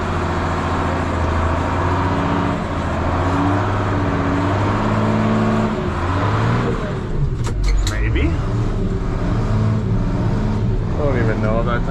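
A farm vehicle backs onto a snowy pad on an Alberta beef cattle farm, its engine droning and straining steadily up close, with a brief rev and tire noise near the end.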